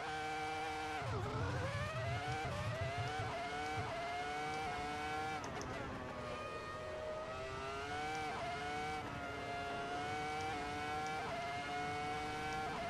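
A Ferrari F2004 Formula One car screams up the Goodwood hillclimb in Assetto Corsa, its high-revving V10 sweeping up through gears with sharp shifts and brief lifts, loud and close throughout.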